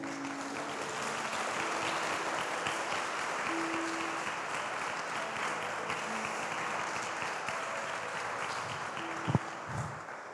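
A church congregation applauds the Lord during a sermon, broad sustained clapping from many people holding steady throughout, with a brief sharp knock near the end.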